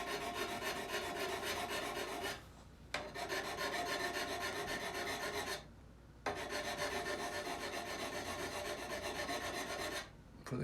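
A burr is raised on the bevel of a scraper cutter used for pole-lathe turning of a Swedish-style lidded box, producing long, even rasping strokes close by with brief pauses between them.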